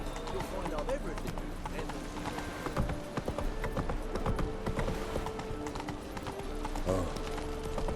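Hooves of the horse Roach clip-clopping steadily in The Witcher 3 game, mixed under ongoing character dialogue and ambient game sounds.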